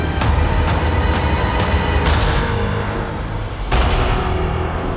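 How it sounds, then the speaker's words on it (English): A Boba Fett ship's sonic charge goes off inside a dense, loud music bed, with several sharp bursts punching through a continuous roar. "you can actually hear the sound of a sonic charge going off."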